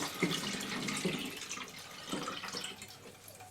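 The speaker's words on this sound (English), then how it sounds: "you just pour it in here on the top" UK tap water pours into the top of a Brita Aluna 2.4 L filter jug with a steady, close splashing and trickling that runs throughout, without talk.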